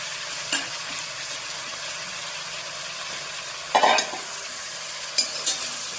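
Pork with onion and taro is stirred in a hot pan under a constant sizzle, with a couple of sharp utensil knocks and a short burst of scraping partway through.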